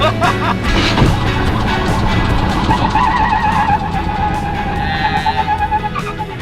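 A 2JZ-swapped Toyota FR-S sliding as its rear end steps out, a loud continuous engine roar with tyre squeal rising and wavering over several seconds, close to the microphone.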